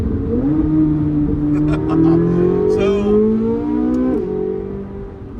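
A C8 Corvette Z06 engine revs with a deep, loud burble that rises in pitch as it accelerates, dips briefly, then climbs again, heard from inside the car.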